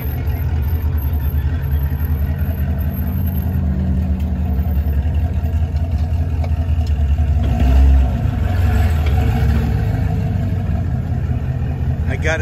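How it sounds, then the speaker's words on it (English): A 1969 Corvette fitted with a Sadev sequential gearbox runs at an outdoor street car event at Las Vegas Motor Speedway, a loud, steady engine rumble with gear clatter and a brief surge near the middle, while people talk over it. "It's not a standard transmission. It's a Sandev sequential gearbox."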